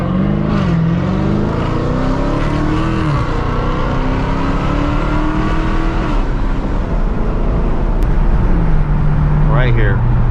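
A 2020 Dodge Challenger Hellcat Redeye engine drones loudly and close, pitch rising and falling through gear changes before settling into a low rumble, with a brief higher whine near the end and voices talking over it.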